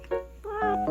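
A cat meows loudly and close by, a drawn-out, rising and falling cry with a second meow following right after.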